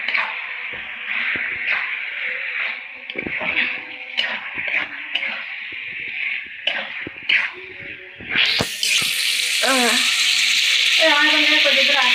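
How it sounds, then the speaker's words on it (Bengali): Utensils clatter and scrape in a pan, then a sudden loud sizzle erupts as tripe hits hot oil and keeps hissing while someone talks. "আমি এখন এই ভুঁড়িটা দিয়ে কষাই নেব"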